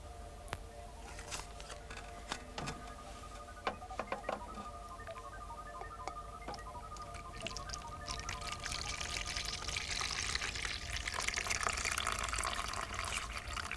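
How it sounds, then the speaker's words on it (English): Water is poured into a tray for a floating-boat science demonstration, a soft, faint trickle that swells into a steadier splashing flow midway through, with no speech. "We'll need water in that tray, Surya."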